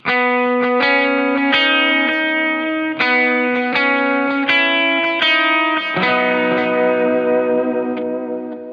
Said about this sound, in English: And here's the dotted eighth.